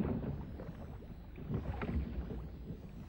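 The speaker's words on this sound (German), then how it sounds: "Eine Flotte von maledivischen Booten fährt vorbei." A fleet of traditional Maldivian boats passes by off Addu, heard as a steady low rumble of water and wash with a muffled, noisy texture throughout.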